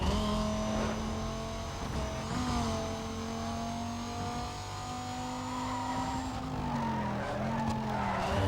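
Car tires squeal and skid under hard braking in Need for Speed: Most Wanted (2005, PS2), racing through a fairground and boardwalk; a loud sustained screech with engine drone runs unbroken for about eight seconds, pitch sliding near the end.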